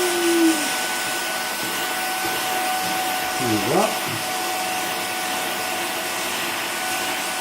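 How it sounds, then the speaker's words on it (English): Vacuum cleaner (hoover) run over a cat's fur, a steady close whine and hiss throughout with soft rubbing, while a person speaks briefly over it. "Got the vacuum as well."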